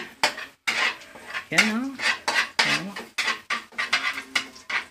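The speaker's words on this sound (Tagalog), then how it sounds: "Yan, nagigisa na siya mga kaibag." Shrimp being sautéed in a pan, with a metal utensil scraping and clanking against the pan in steady repeated strokes, close and fairly loud, while a voice speaks briefly.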